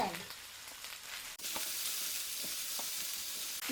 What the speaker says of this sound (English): stir them